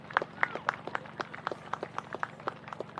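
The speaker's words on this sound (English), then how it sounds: "Round of applause now for the young lady" Applause from a small crowd at an under-17 girls' Pasifika Youth Cup match, honoring an injured young player: light, uneven clapping over about three seconds, moderately distant, with some voices mixed in.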